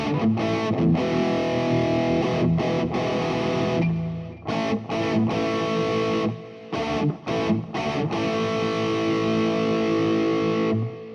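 Electric guitar runs through an Overloud TH-U amp simulation with delay and reverb, playing loud, distorted sustained chords with brief choppy stops and echoing tails, no voices over it.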